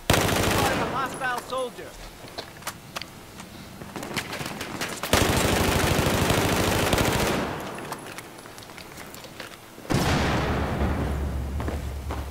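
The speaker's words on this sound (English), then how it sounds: "I have eyes on a hostile machine gunner east of your pause." Machine gun fire from the Battlefield 4 video game rattles in sustained bursts across most of the stretch, with louder blasts breaking in, under brief radio-style voice chatter.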